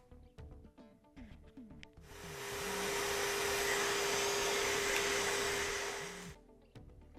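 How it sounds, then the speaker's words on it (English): A vacuum cleaner sucks lint out of a Frigidaire laundry center dryer, starting abruptly and running as a loud steady roar for about four seconds before shutting off, with scraping and handling noises around it. "our vacuum to get in here and pull all that away"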